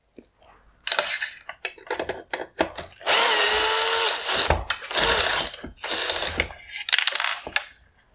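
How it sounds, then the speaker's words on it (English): A power driver whirs in short bursts and one longer run with ratcheting clicks, close and loud with no talking, while a T20 Torx screw comes out of the top headlight bracket on a 2017-2020 Jeep Grand Cherokee halogen headlight. "I will remove the T20 Torx screw holding on this top bracket"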